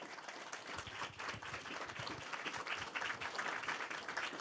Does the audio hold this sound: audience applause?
yes